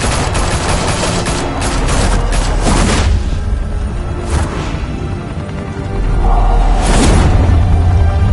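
Gunfire from the Batman Telltale Series: sustained, loud automatic bursts and heavy booms fill the scene almost without a break, with a surge of shooting near the end.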